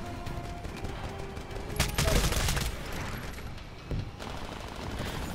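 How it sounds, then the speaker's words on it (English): Suppressed gunfire from a silenced weapon in a video game: a few brief, muffled shot bursts over a busy game background, the loudest cluster near the middle and a single shorter one a little later. "I do have a silencer on my gun because I don't like to be broadcast everywhere when I fire my gun"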